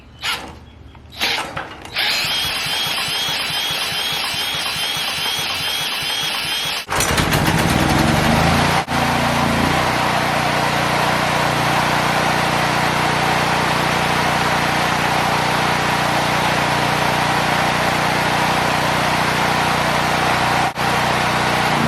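A cordless drill fitted as a starter spins a small generator engine; a whirring crank is followed by the engine catching and running loud and steady at high speed until the end.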